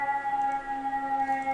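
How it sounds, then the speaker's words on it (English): A steady, sustained siren sounds from outside, a loud held tone with slight wavering that fills the short stretch without any talking. "Sorry for the sirens."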